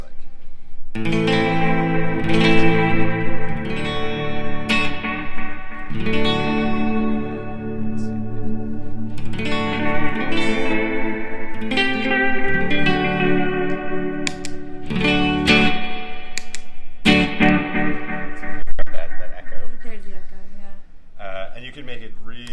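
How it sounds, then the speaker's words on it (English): A repeater effects unit gives a wobbly tape-warble tone: a series of phrases and notes with wavering, seasick pitch and chorus-like smearing, some clipped and some sustained, running for over twenty seconds. "This is also like one of my favorite sounds, just this wobbly tape."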